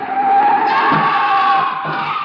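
A car skids with a long, loud tire screech as it swerves toward a man on a street in a radio drama, the squeal sustained and close throughout.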